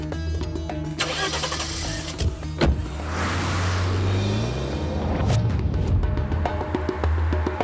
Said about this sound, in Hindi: कोई गाड़ी तो आ रही है।